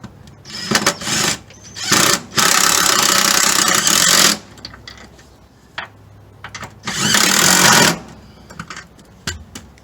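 Power tool, likely an impact wrench, tightening the nuts on a Mazda 3 rear shock mount: several loud bursts of whirring, the longest about two seconds, separated by pauses with faint clicks and handling noise.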